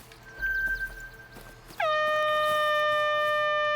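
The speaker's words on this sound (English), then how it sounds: "An air horn app?" A loud air horn app blares in The Hunter: Call of the Wild, a single sustained, brassy blast that cuts in sharply over quiet outdoor ambience and holds steady to the end.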